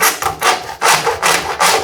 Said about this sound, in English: Put in position in the mitre block using a hacksaw